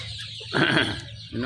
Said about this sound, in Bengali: এখানে আমার 500 মুরগির বাচ্চা আছে